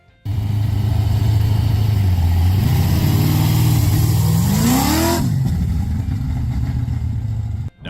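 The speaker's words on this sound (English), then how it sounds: "the Barracuda delivers a satisfying growl that can make any drive a thrilling experience" A Plymouth Barracuda muscle car engine growls loudly and close, idling with a deep rumble, then revving upward in a rising surge before dropping back to a steady, throaty idle, with no talk.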